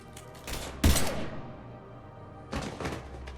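Gunfire in Mass Effect 3: a loud sharp blast erupts and decays into a rumbling tail, then a second weaker volley of shots follows a moment later, with no voices over them.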